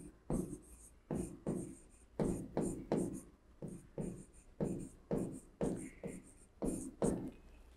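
Pen or pencil writing on paper, close and clear, in short repeated scratchy strokes with brief pauses between them, no voices.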